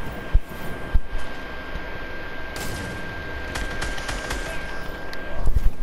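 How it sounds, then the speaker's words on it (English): Gunshots in Fortnite during a hide-and-seek match, a few sharp cracks early on followed by a burst of rapid fire near the end, heard over a steady background hum. "I shot you once, okay?"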